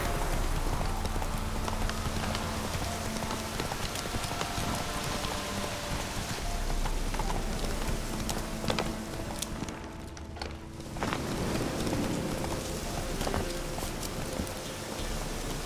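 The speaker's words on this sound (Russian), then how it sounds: "дождик." Rain in The Witcher 3 falls steadily across the scene, mixed with a horse's clip-clopping hooves on the ground, a constant soft wash with no voices.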